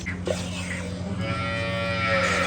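A buffalo at its stall gives a single drawn-out low moo that rises into a tonal call, close and clear over a low humming background.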